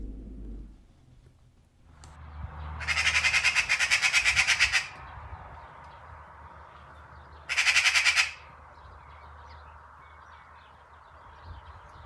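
A magpie squawks loudly in two bursts of rapid harsh chatter, the first about two seconds long and the second shorter, over a quiet outdoor background, with no talking.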